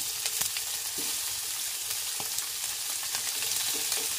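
Shrimp fry in a pan with a steady, close sizzle that stays dense throughout, broken by a few faint clicks and scrapes.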